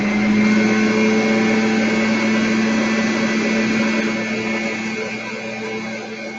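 An electric stand mixer whips cream into chantilly for a butterfly-themed cake. Its motor gives a steady, close, continuous whine that eases off slightly toward the end, with no talking over it.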